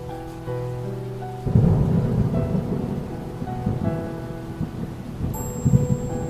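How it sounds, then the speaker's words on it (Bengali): Heavy rain pours steadily while a deep roll of thunder breaks in partway through, swelling loud and rumbling before easing back under the downpour; no voices. "এরপরেও বৃষ্টি থামে না"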